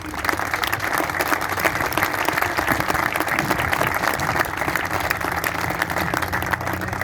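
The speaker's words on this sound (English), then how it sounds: "But Miranda, I want to give you a round of applause and say thank you for your support" Sustained applause from an audience at a veterans motorcycle charity event where a deserving veteran receives a free bike, steady dense clapping filling the whole stretch with a faint voice or two underneath.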